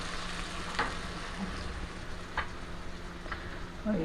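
Beef karahi with butter added sizzles steadily in a pan, a continuous frying hiss with a few scattered clinks from stirring, no talking.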